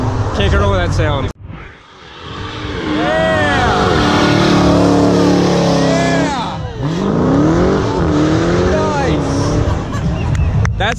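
A car accelerating hard away from a car show, its engine revving up through rising, sweeping tones after a brief silence, loud and close, with crowd chatter and shouts around it.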